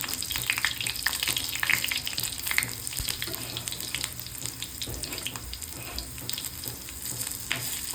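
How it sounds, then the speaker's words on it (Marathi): Coriander fritters (kothimbir vadi) shallow-frying in hot oil until reddish brown, a dense continuous sizzle and crackle with scattered pops, steady and close throughout. "थोडा लालसर होईपर्यंत आपल्याला फ्राय करून घ्यायच्या आहेत"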